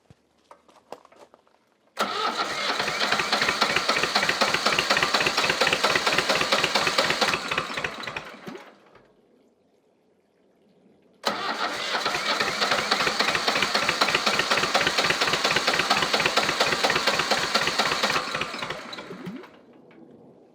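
An old Shibaura tractor diesel engine starts and runs loud and close with a steady knocking chug for about six seconds, then dies away. After a short silence it starts again and chugs for a similar stretch before fading out.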